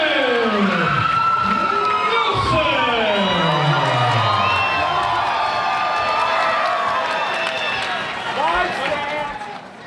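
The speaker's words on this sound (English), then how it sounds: "You can hear that crowd for Sim." A large crowd cheers for an MMA fighter from Green Bay, Wisconsin, at a Pure FC event, a loud continuous roar with whoops and shouts that eases slightly near the end, a voice mixed into the noise.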